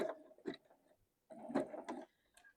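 A sewing machine running a zigzag stitch in two short bursts separated by a pause, quiet and close, with rapid mechanical whirring and clicking.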